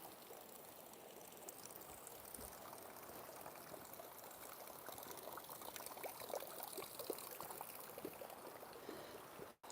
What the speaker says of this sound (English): The big icicles from all this cliff face is basically a waterfall.